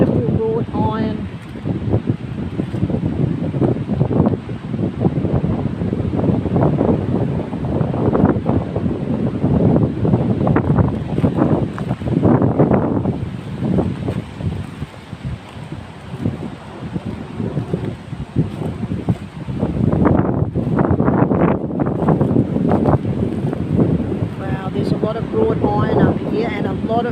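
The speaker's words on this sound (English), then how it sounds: "Very windy today. You can hear the wind in the trees." Strong wind gusting through trees in an old cemetery, a loud continuous roar and rush with swelling gusts and buffeting against the microphone, with someone talking over parts of it.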